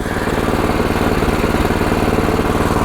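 A small engine on a Champion 19-inch rear tine tiller runs loud and close at half choke, with a steady, slightly uneven rapid chugging rhythm and no talking over it.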